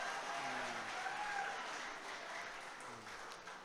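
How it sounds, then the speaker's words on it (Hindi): A seated audience at a Hindi shayari poetry performance claps together, a sustained wash of applause with a faint voice or tone drifting underneath. "तालियां बजा दीजिए सर के लिए।"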